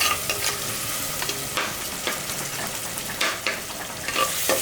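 Onions and tomatoes sizzle and fry steadily in a pan for a fish curry, with occasional scraping stirs rising over the constant close crackle.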